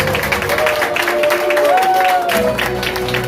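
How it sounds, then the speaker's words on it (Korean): A crowd cheers and applauds at a campaign office opening ceremony for a Democratic Party candidate for the Gyeongbuk provincial council in Gumi. The noise is a dense, continuous roar with a wavering tone running through it. "여러분의 함성과 박수로 개회를 선언합니다"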